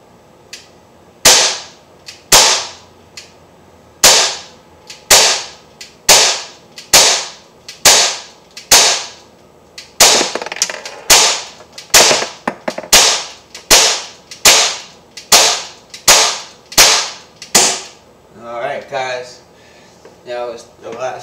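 Umarex Smith & Wesson M&P 40 .177 caliber CO2 BB air pistol shot continuously to empty the magazine: about eighteen sharp, close cracks at a steady pace of roughly one per second, with a voice talking briefly at the end.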